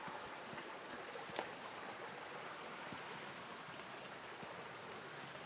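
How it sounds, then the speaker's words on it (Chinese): A mountain stream beside an abandoned old village in the Hunan hills rushes in a continuous, even wash of water noise, quiet and steady throughout with no voices. "這種溪水的聲音就越來越大了"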